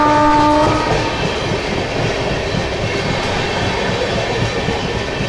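Pooja Superfast Express train running at speed, a steady loud rumble with rail clatter throughout and a short horn blast at the start.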